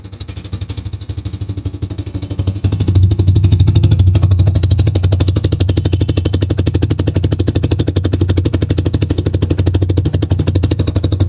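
A Bajaj Freedom 125 CNG motorcycle idles and runs close by with a steady, loud, rapid thumping beat, briefly revving a little louder about three seconds in, with no talking.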